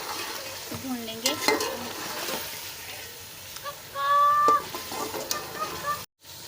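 Green beans fry in a pan, a steady sizzle broken by scraping stirs and spoon knocks. A soft voice speaks briefly and a faint animal call comes from the background.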